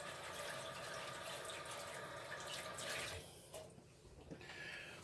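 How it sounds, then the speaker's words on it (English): A tap runs steadily into a kitchen sink as hands are washed, a constant rushing hiss that eases and splashes unevenly near the end, close by and fairly quiet, with no voices. "Let me wash my hands real quick."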